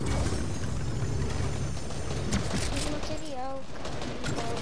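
Dense, rapid bursts of gunfire in the Fortnite video game, a continuous volley under voices talking and exclaiming over it.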